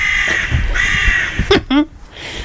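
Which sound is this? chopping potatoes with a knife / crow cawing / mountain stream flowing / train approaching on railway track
crow cawing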